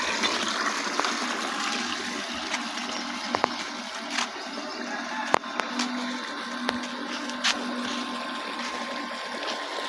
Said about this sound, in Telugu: వాటర్ కూడా తోడేస్తున్నాయి.